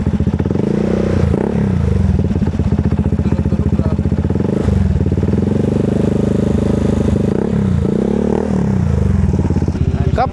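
Honda ADV 160 scooter with a remapped engine, idling and revving close up, with a loud, rough, steady engine note that swells periodically.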